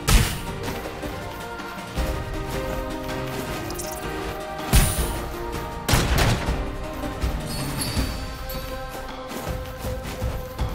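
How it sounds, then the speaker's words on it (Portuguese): Gunfire in the video game Foregone comes as a run of sharp, loud shots and crashing impacts, with several heavy bursts over a busy game soundtrack. "Ah, vou dar um tiro."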